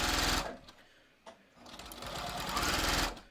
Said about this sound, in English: So I'm just going to sew.